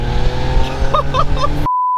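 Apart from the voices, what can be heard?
BMW E46 valved exhaust revving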